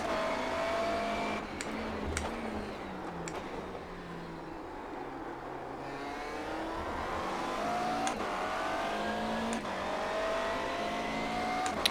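GT race car engines roar in the iRacing sim at Donington Park, a steady pack of cars droning and revving with rising and falling pitch as they pass, continuous and loud throughout without speech.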